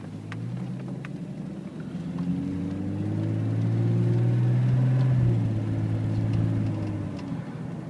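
A 1996 Jeep Cherokee Sport engine runs with a slight flutter, a steady low rumble that swells in the middle as it revs a little and then settles, close and alone with no talk.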